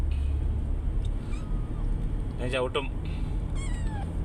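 A cat meows a few times, short rising cries close by, over a low steady rumble like a vehicle engine.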